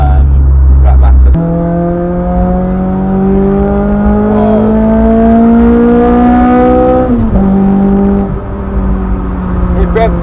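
A Honda Civic Type R EP3 revs hard, its engine note climbing steadily and loudly toward a high pitch, briefly dipping near the end before rising again, close and dominant.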